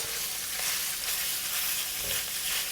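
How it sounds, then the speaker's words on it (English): Minced pork sizzles and crackles steadily in hot shallot oil, a constant close frying hiss. "Frying this with the shallot oil will make this dish very flavorful."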